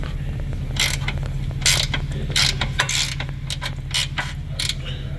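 Wrench breaking free an eccentric rear toe link alignment bolt on a 2019-or-newer Chevy Blazer, Traverse, GMC Acadia or Buick Enclave, giving a series of sharp, loud ratcheting clicks and creaks over a steady low hum.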